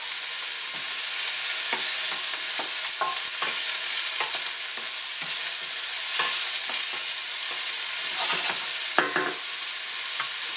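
Chopped onion fries in a hot pan with a loud, steady sizzle and hiss, broken now and then by the scrape and clack of stirring; no one speaks.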